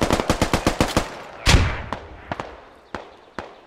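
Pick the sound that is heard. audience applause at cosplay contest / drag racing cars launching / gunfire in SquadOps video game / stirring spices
gunfire in SquadOps video game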